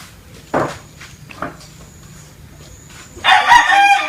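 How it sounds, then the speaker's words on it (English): A rooster crows loudly near the end, after a couple of brief knocks and clucks in an otherwise quiet outdoor setting. "wherever you go, there's chickens and roosters making that noise"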